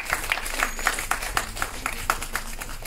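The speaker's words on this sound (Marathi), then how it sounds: "जोरदार टाळ्या झाल्या पाहिजे" Applause from an audience at a Marathi film event as an honoree is called up, heard as steady rhythmic clapping from many hands at moderate volume, with no speech over it.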